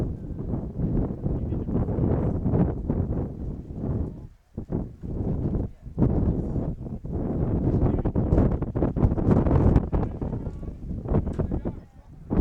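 Strong wind buffets the microphone on an open soccer field during a high school match, a steady roar with gusts that dip briefly and surge again, with faint crowd and player noise beneath.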